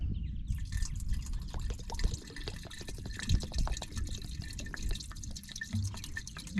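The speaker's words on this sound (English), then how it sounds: "We're going to pour the cleaner in there." Cleaner fluid pours into the filler hole of an old truck's radiator, a steady wet trickle with dense dripping and splashing throughout, close and fairly loud, with handling noise and no speech.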